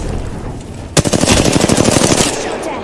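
Loud, close automatic gunfire in the video game Apex Legends, a rapid burst of shots that starts abruptly and keeps going for about two seconds.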